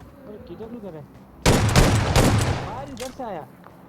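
Burst of S12K shotgun fire in the BGMI mobile battle royale game, a loud dense volley lasting about a second and a half, with speech before and after it.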